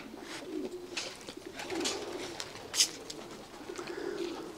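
Racing pigeons cooing inside a loft, several soft rolling coos spread across the stretch with a few sharper calls, moderately close and fairly quiet.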